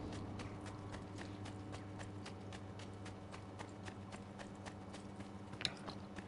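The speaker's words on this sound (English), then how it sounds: "Grab horse." Horse hooves clip-clopping in Assassin's Creed 2, a steady rhythmic trot of evenly spaced hoof strikes over a low ambient drone, with one louder knock near the end.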